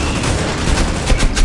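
Dense gunfire in the mobile shooter Critical Ops, a rapid burst of overlapping shots, loud and close throughout the short stretch with no voices.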